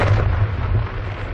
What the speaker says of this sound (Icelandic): sýnir hvernig spítali sprengdur í loftu upp með svokölluðum tunnusprengjum